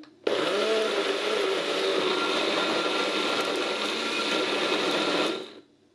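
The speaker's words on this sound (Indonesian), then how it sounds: "oke kita blend" A blender grinding rendang spices including candlenuts and shallots whirs loudly and steadily for about five seconds, starting abruptly and cutting off at the end, with no talking.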